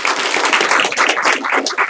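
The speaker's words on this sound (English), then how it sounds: "let's again give them a huge round of applause for the work they do for our children." Steady, dense applause from a large audience at a school board meeting honoring elementary and high school staff, continuous clapping filling the room at fairly loud level throughout.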